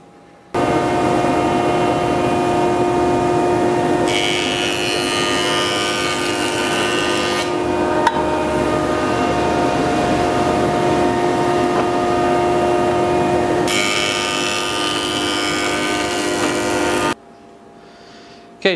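A jointer planes the edge of an 8/4 hardwood board for a cutting board, a loud, steady whining roar that runs for about sixteen seconds with a brighter cutting hiss at two points before the machine cuts off.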